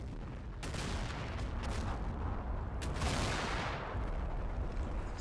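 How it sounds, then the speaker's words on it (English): Incoming mortar rounds exploding in the World War II strategy game Combat Mission Final Blitzkrieg, a few dull booms landing at a distance over a steady rumbling battlefield din, no voices. "Some more mortars coming in down here"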